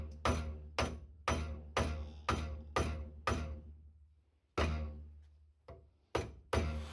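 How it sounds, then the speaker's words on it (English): Hammer blows ring out on a cast iron part being straightened after its rivets were punched out, about ten sharp, close, evenly spaced strikes, each with a short ringing decay, with a brief pause midway and no talking. "a few precise hammer blows were all it took to straighten it"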